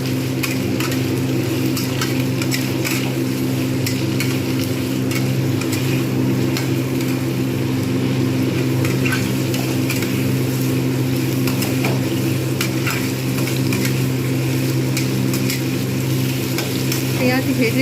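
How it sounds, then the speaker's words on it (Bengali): Potatoes, onion and taro frying together in a pan, a steady loud sizzle with stirring scrapes running unbroken throughout, no talk. "ঢাকনা দিয়ে দিয়ে আমি কিন্তু আলু, পেঁয়াজ এবং কচু একসঙ্গেই ভাজবো।"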